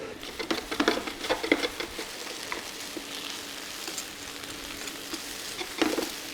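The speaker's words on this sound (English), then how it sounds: "I'm just gonna go get the potatoes out of the fryer." Potatoes frying in a fryer, a steady crackling sizzle with bursts of patter and clatter, close and moderately quiet, without talk.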